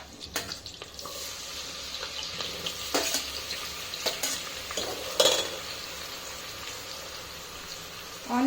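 Onions cooking in oil for Dindigul mutton biryani, giving a soft, low sizzle with occasional stirring clatters and scrapes in the pan, fairly quiet and steady, no talking.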